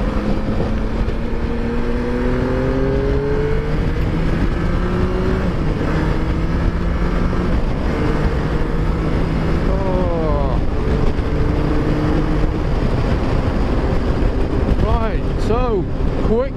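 A Yamaha Tracer 9 GT motorcycle accelerates through several quick-shifter gear changes, its engine note climbing and dropping in repeated steps, with wind rush and a rider talking over the ride.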